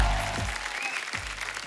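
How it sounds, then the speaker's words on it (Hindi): Studio audience applause welcomes guests onto a Hindi comedy show stage, a steady loud wash of clapping with a music-like swell and voices underneath. "आप सबकी जोरदार तालियों के बीच"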